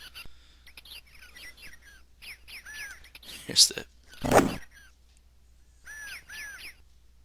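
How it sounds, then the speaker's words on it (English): Birdsong in the 1990 Golden Tee Golf arcade game by Incredible Technologies/Strata: repeated chirps and tweets scattered across the clip, fairly faint, with a couple of louder bursts and brief speech at the start. "birds chirping"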